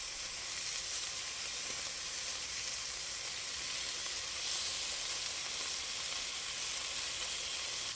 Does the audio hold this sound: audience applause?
no